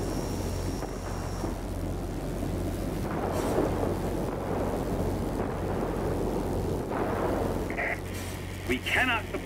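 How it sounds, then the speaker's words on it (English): A thunderstorm rolls through the air-combat game World of Warplanes, a steady low rumble with heavy wind and rain noise, swelling in places, while a voice speaks over it near the end. "a line of thunderstorms is approaching"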